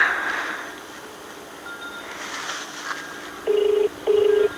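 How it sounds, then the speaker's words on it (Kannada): Two short, clear telephone dialing beeps near the end, following a few seconds of quiet room noise and faint rustling. "ಮಮ್ಮಿಗೆ ಅವ್ರು ಫೋನ್ ಮಾಡೋಣ"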